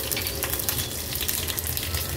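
Mustard seeds, cumin, curry leaves and dried red chilli crackle and sizzle in hot ghee, a steady, fairly quiet frying hiss with scattered tiny pops.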